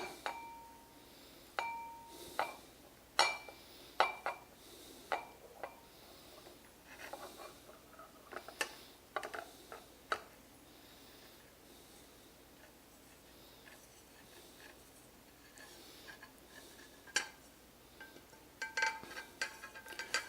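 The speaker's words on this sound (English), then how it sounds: "So we just want to mix all those into a bowl, which I will do here." Dry spices and pink curing salt stirred together in a small bowl for jerky, giving scattered light clinks and ticks of spoon against bowl, fairly quiet and irregular, with no talk.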